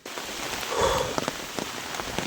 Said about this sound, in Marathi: चांगलाच पाऊस आला पाहू शकता